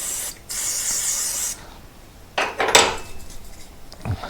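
Aerosol brake cleaner sprays on the front brake of a Honda Transalp 600 (PD06) motorcycle in short hissing bursts that sputter and cut out, followed by a few faint metallic clinks nearby.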